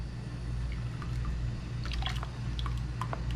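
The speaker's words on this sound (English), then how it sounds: "So I'll pour in some of the fish emulsion." Fish emulsion poured into a container of water for compost tea, giving faint close drips and small liquid splashes over a low steady hum, with no talking.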